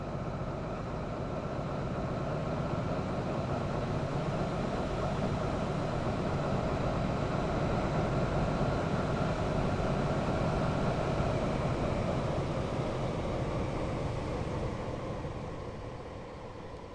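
A Class 175 diesel multiple unit runs steadily on the South Wales coastal route from Cardiff to Cheltenham Spa in a train simulator, its continuous engine drone and rail rumble filling the scene before easing slightly at the end.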